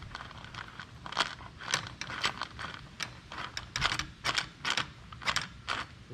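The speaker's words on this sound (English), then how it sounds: "Now I'll just tighten these bolts back in." Bolts tightened on a shift shaft brace of a Honda CRF110, heard as a quick run of close, small metallic ratcheting clicks in uneven bursts, quiet and steady, with no voices.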